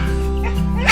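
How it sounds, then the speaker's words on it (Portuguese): Dogs bark excitedly at a small opossum, a brief burst of yelps and barks over a steady low hum, ending with a sharper, louder outburst. "Os cães estão doidos, latindo"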